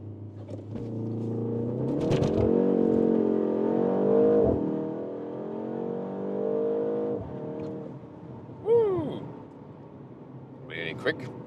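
A BMW M135 engine pulls hard on a launch-control start, its note climbing steadily through the revs with brief dips at gear changes, close and loud, with a squeal and clatter near the end.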